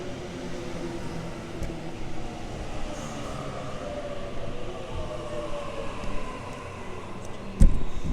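A Sydney Trains Waratah train rumbles steadily at Petersham station, a continuous low rail drone with faint hum, a brief louder clunk near the end.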